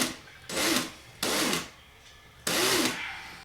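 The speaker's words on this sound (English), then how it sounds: "I like the drill rotating away from me" A handheld drill spins a length of wire clamped from its chuck to a swivel tool, winding a Clapton coil for an Alien vape coil build. It makes three separate bursts of loud, steady whirring, each lasting under a second, with quiet pauses between them.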